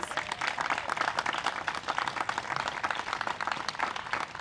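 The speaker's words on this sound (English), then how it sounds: "Can we please give her a round of applause?" Audience applause at a Reading Public Museum centennial time capsule dedication event, a dense, steady wash of many hands clapping throughout, moderately loud with no talk.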